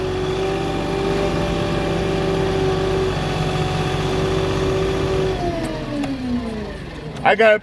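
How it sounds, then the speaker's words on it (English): A flatbed delivery truck's engine rumbles steadily, then revs up as it pulls forward, ending with a few louder bursts and clunks. "I'll just move my truck up so I can get my forklift on."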